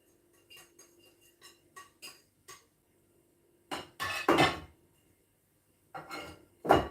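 Bread ingredients and milk are stirred in a bowl, with a run of light clinks and scrapes followed by louder, longer scraping bursts, close and clear with no talk.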